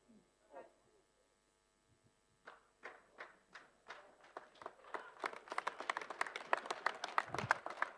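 A church congregation claps, starting with a few separate slow claps after near silence, then building into faster, denser rhythmic clapping that grows louder toward the end.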